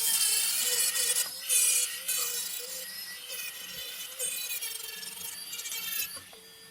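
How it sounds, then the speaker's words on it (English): A fine sintered diamond burr grinds steadily into multi-colour Andamooka crystal opal, giving a continuous high, whiny abrasive hiss with small shifts in pressure and a brief surge midway, fairly close and alone. "We're finished with our fine sintered diamond burr."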